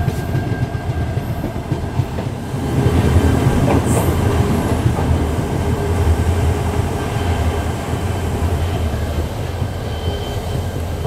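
A train rolls along a jungle railway through dense forest, its loud, steady rumble and rhythmic clickety-clack of wheels growing heavier partway through, with faint squeals from the rails.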